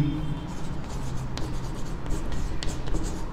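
Pen or chalk writing during a Class 10 ICSE maths lesson on probability, a steady scratchy stroking that runs for about three seconds at moderate level with brief taps, no speech.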